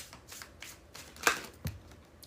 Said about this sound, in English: last two to shuffle in the deck